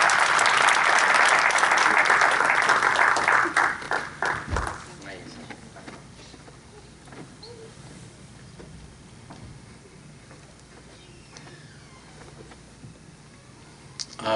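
Loud audience applause at an Urdu Academy literary evening welcoming the guest of honour, a dense burst of clapping that thins out and dies away after a few seconds, leaving a quiet room with faint shuffling.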